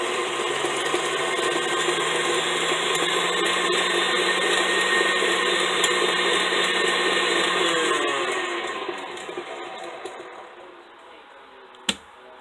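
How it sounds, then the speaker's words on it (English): Stand mixer beating a little leftover frosting in an otherwise empty bowl, a loud steady motor whir with a rattling beater that winds down and fades, ending in a sharp click. "you're just going to beat it even though there's nothing in the bowl except that little bit of frosting"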